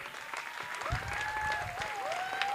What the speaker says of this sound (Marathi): सो जोरदार टाळ्या वाजवूयात आपण.